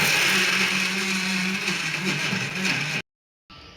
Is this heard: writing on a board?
no